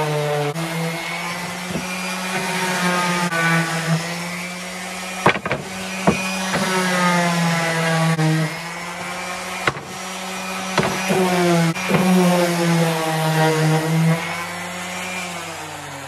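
A power sander runs steadily on pallet wood, its dust collector fitted at the back, giving a continuous loud whirring drone with slight pitch wavers and a few sharp knocks as the tool shifts across the board.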